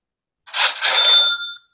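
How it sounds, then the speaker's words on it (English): Online Sales Pro new lead notification chime, a bright electronic alert with several sustained ringing tones lasting about a second, clear and alone with no talking. "that is the sound of when you get a lead online"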